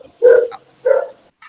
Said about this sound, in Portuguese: tem um au-au latindo aí